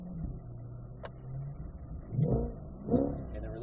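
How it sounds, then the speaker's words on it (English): A 2020 Chevrolet C8 Corvette idling in neutral, then blipped twice in quick revs that swell and fall away, heard from inside the car with no talk. "you can sit there and just rev bomb the thing"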